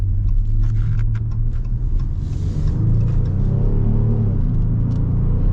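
2024 Ram 1500 V6 pickup accelerating at full throttle, heard from inside the cab as a loud, steady low engine rumble and drone with a slight rise in pitch and no talking.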